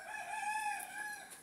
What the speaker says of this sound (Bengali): এই যে এখানে আছে গলা সিলা মুরগি